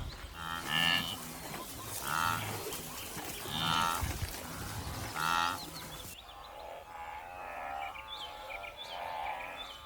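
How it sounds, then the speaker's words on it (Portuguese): A herd of wildebeest on the savanna, heard as repeated low grunting moos at a moderate distance. Faint bird chirps sound in the background. "À distância, uma manada de gnus atravessava lentamente a savana."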